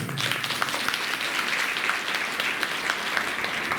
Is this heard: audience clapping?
yes